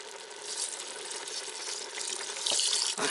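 Beef broth poured from a 32-ounce carton into an Instant Pot with long grain white rice, a steady close liquid splash that swells louder near the end, with no talking.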